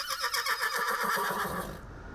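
A horse neighs loudly at a show-jumping veterinary inspection, one long shaky whinny with pulsing vibrato that holds steady and then cuts off, close and clear with no talking over it.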